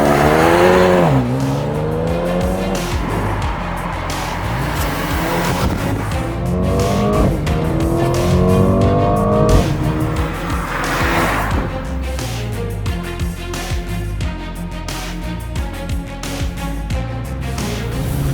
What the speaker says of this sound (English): it's fairly loud in here. Now this is amplified. This is fakey sound, but it's a good fakey sound.